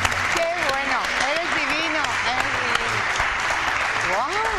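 Applause from a large auditorium audience at a televised Eurovision commentators' tribute gala, a dense steady wash of clapping that fills the whole stretch, with voices and cheers rising over it.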